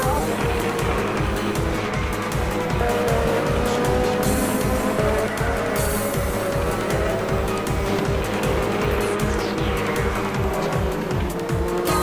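Racing-game race cars roar close together with continuous engine drone, tire squeal and skidding as one car is bumped from behind, a steady loud stream of motor noise throughout.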